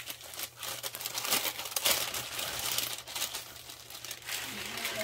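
Plastic bag crinkling and rustling close by during a craft-supply haul, in bursts of crisp crackles with brief pauses, with a low steady hum underneath and no talk.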